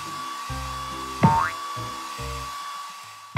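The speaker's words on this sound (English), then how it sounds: "Tap the hair dryer to blow dry the pup's hair." A steady electronic whirring hum like a cartoon hair dryer blowing dry a puppy in a PAW Patrol game, with a springy boing and short tonal blips layered over it.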